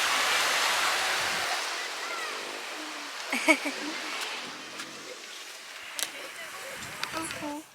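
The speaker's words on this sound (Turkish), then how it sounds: "Buranın denizi çok sakin, çok güzel." Calm sea waves wash in a soft, steady hiss that eases after the first seconds, while people talk nearby over the gentle surf.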